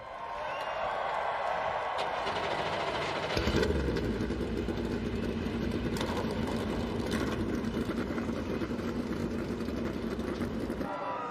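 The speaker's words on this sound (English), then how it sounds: "Drivers, start your engines." NASCAR Cup Series stock car engines at the Geico 500 fire up and run at a loud, steady roar with a mid-clip surge, against a packed grandstand crowd and a voice talking underneath.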